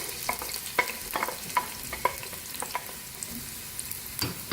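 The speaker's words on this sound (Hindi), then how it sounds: "प्याज को हल्का सा फ्राई करेंगे।" Steady crackling sizzle of onions frying in hot oil, with scattered pops and occasional stirring clicks, close and continuous with no talking.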